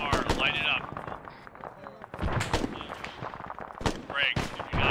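Rapid, irregular gunfire in the military video game ARMA, with sharp cracks and bursts packed close together and voices talking over the shooting throughout.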